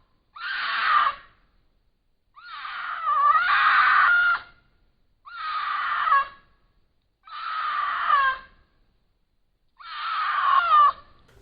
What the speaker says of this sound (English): there's a cougar screaming